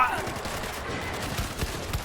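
Gunfire crackles in the zombie shooter video game World War Z, a dense, continuous fusillade of rapid shots at steady loudness, with voices talking over it.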